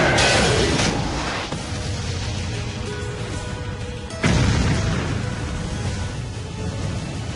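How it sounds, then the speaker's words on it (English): A steam pressure explosion from flash-heated rainwater in an anime battle gives a loud booming burst at the start that fades into a roaring wash, then a second sharp blast hits midway and rumbles on. "It heated the rainwater so quickly the steam pressure caused an explosion."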